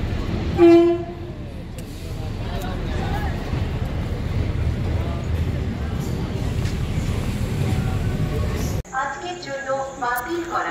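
A passenger train rumbles steadily past nearby after a short horn toot, with voices talking at the start and again as the noise drops away.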